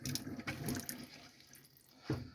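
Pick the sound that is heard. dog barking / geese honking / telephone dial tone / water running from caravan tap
water running from caravan tap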